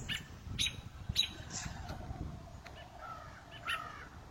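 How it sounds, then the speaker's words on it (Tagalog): Crows caw in a few scattered, moderately distant calls amid other agitated birds outdoors, over a low rustling background. "May uwak kasi."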